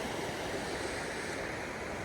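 A creek runs on a cold winter morning in Pennsylvania trout water, a loud steady rush of flowing water with no voices over it.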